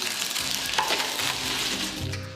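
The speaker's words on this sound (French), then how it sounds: "Bruno, chargé de plonger les chairs surgelées dans un bouillon assaisonné." Frozen snail meat hits a seasoned broth, giving a dense, close bubbling sizzle and hiss that runs steadily throughout, loud and without any talking.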